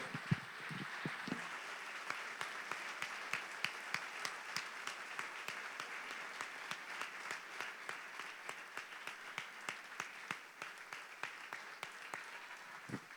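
A church congregation claps steadily and rhythmically in unison, a dense, even wash of applause with regular beats throughout and little talk.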